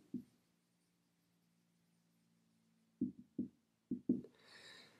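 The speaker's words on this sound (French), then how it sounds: "Donc, je l'écris ici." Pen strokes scratch on paper during a maths lesson, a few short close taps and scribbles in quiet surroundings, with a faint hum between them.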